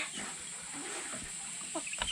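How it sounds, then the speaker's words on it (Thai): Chickens cluck softly outdoors at a rural hillside home, scattered short calls over a constant high insect drone and faint background noise. "ไก่เต็มเลย"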